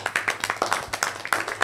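An audience in a school setting claps for a schoolgirl, a brisk run of close, loud handclaps with a steady patter rhythm.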